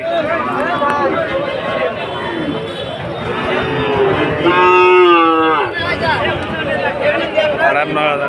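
Cattle moo loudly nearby amid a busy crowd at the Panchbibi cattle market, with people talking and chattering throughout; one long low moo stands out in the middle.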